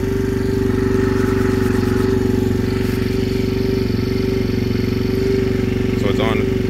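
A 2022 Yamaha TTR-125 dirt bike idles on choke with a steady, close, buzzing single-cylinder drone, and someone speaks briefly near the end.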